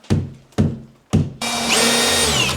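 Power drill boring pilot holes into an IKEA PAX wardrobe: three sharp knocks, then a loud, close, sustained whine as the drill spins into the board.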